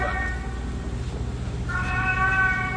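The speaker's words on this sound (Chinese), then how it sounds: "不仅用广播播放猫咪叫声" Cat meows played through a loudspeaker at a demolition-site building, two drawn-out tonal meows separated by a pause, heard at moderate distance over a low steady background hum.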